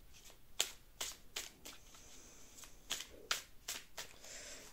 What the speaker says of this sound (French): je vais tirer donc à chaque fois deux cartes de chaque